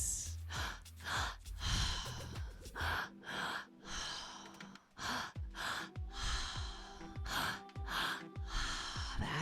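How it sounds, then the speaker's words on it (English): Deep rhythmic breaths during a guided breathwork meditation, each sharp inhale and long exhale repeating close and loud, with gasping, sighing bursts and no talk. "Breathing deeply into the belly, deeply into the heart, and"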